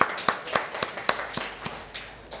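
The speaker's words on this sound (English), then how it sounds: "Give him a round of applause, please." Scattered audience clapping at a technical session after a speaker is invited on stage: a sparse, fairly faint run of separate claps over a couple of seconds, thinning out toward the end rather than building into full applause.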